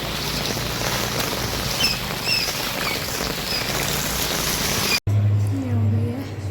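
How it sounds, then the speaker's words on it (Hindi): Heavy rain pouring down on an evening street during a Chaitra Navratri outing, a dense steady hiss for several seconds, then a sudden cut to a quieter, muffled stretch with low humming. "भयंकर वाली बारिश आ रही है इधर"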